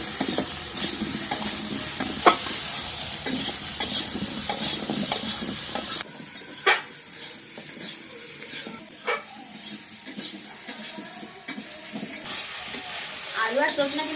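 Potato pieces and drumsticks sauté with salt, turmeric and chilli powder in a pan in the Sundarbans, a lively sizzle with repeated spatula scrapes that turns quieter and sparser about halfway through.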